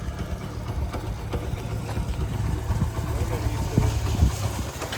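Hero Honda SS100 motorcycle with a Japanese engine idling outdoors in rainy weather, a steady low chugging hum running continuously at moderate level throughout.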